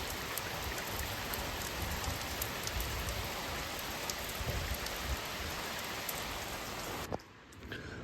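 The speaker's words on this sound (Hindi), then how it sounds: "यहाँ पर गांव के जस्ट उस साइड को भयंकर बारिश हो रही है भाई।" Heavy rain pours near a mountain village in a steady, dense downpour that stays loud and unbroken, easing slightly in the final second.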